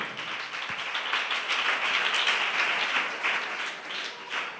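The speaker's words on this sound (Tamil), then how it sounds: "நல்லதாக கைத்தட்டி உணர்ந்து உற்சாகமாக" Church congregation clapping their hands in thanks during a Tamil Christian service, steady dense clapping from many people sustained throughout at even loudness, with no voices over it.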